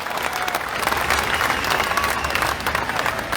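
Broad, continuous clapping from a crowd at an outdoor freedom rally in Sydney, with scattered cheers mixed into the steady applause.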